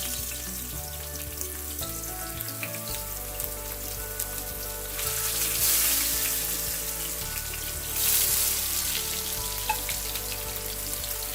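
Seer fish steak sizzling in hot oil, a steady close crackling fry that flares louder twice as the pan settles, with no talking.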